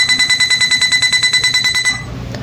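A car parking sensor buzzer beeps rapidly and regularly, loudly for about two seconds, then stops, leaving low background rumble.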